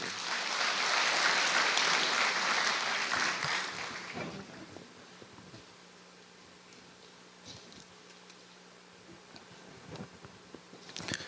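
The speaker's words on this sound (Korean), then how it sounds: "박수 한번 보내주세요" A church congregation at a worship service claps loudly for a few seconds; the applause then fades away, leaving a quiet room with scattered faint noises.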